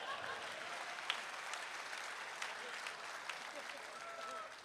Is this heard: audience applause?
yes